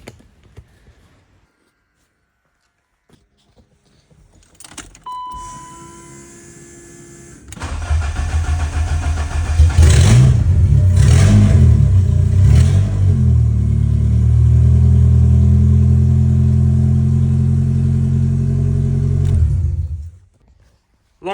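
K24-swapped turbocharged BMW E36 starting up after faint clicks, then a loud close engine roar with several sharp revs before settling into a sustained high drone that cuts off abruptly.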